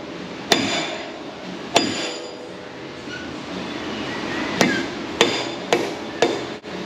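Hammer driving a seal into the hub of a Ford F250 during a suspension rebuild, seven loud metallic blows, two spaced apart early and then five in quicker succession, with a quiet workshop in between.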